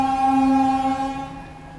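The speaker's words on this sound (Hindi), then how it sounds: "पर सामने खड़ी है अपनी फ़िरोज़पुर कैंट मुंबई पंजाब मेल, जो कि बहुत ही लेजेंडरी गाड़ी है ये इस रूट की।" Firozpur Cantt–Mumbai Punjab Mail train at a railway junction station sounds its horn, a loud sustained harmonic blast that fades off over about two seconds, with no talking.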